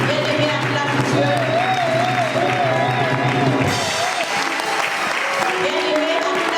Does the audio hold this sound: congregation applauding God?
yes